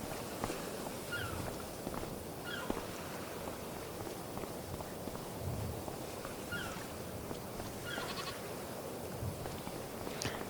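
Goats and sheep in the Farming Simulator 25 video game, several faint high bleats scattered at intervals over steady low ambient noise, with soft footstep-like thuds in between and no talking.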